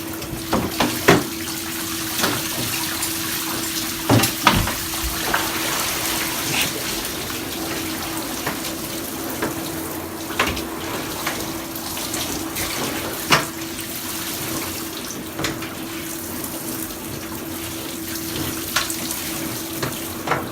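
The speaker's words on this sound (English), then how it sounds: "we're rinsing all the detergent and all the final blood off of the frame and bag here." Running water from a tap splashes steadily as detergent and blood are rinsed off a Stone Glacier backpack frame and bag in a sink, a continuous close hiss with occasional louder splatters, no talking.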